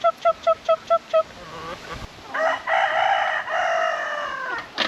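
Chickens and roosters on a tropical Far North Queensland property, close by and loud: a quick run of sharp, evenly spaced clucks, then a rooster's long drawn-out crow with a second bird overlapping, with no talking.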